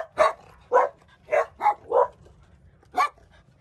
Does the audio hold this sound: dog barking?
yes